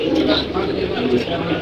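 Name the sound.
pigeons cooing at Jinjira pigeon market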